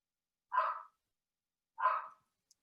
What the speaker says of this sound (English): They just never bark. They're such good little dogs.